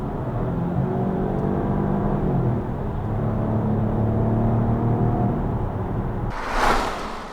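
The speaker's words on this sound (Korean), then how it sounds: "잠깐 엔진음을 감상을 해보도록 하겠습니다" A Peugeot 408 crossover in sport mode hums steadily from inside the cabin, a low engine drone with gentle rising and falling pitch, followed near the end by a brief burst of broadband noise.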